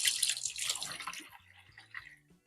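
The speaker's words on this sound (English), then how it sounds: "And then I've got a full jar of water going in as well." A jar of water is poured into a bleach mixture: a short splashy pour that trickles and drips away to near silence within a couple of seconds.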